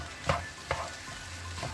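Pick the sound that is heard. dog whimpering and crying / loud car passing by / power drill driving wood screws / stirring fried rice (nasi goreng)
stirring fried rice (nasi goreng)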